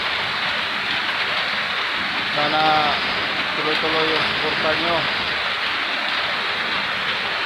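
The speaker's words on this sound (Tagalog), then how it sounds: "sobrang lakas ang ulan" Heavy rain pours in a steady broadband roar throughout, with a voice speaking over it in the middle.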